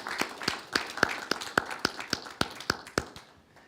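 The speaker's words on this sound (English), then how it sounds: "Let's give a round of applause for Sherry Hursey and Rick Cowling" Sparse, rhythmic claps from a small audience honoring performers Sherry Hursey and Rick Cowling at a church service, about a dozen sharp hand claps spaced evenly and close by, fading out at the end with no talk.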